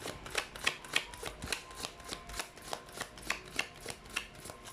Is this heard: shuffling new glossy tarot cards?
yes